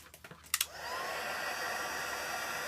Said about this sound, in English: melt the embossing powder and dry the gesso with a heat tool.